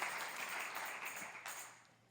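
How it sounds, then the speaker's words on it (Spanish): A church congregation applauds during a Sunday service, a dense wash of clapping that stays steady and fairly close before gradually thinning and fading toward the end. "da ese aplauso fuerte"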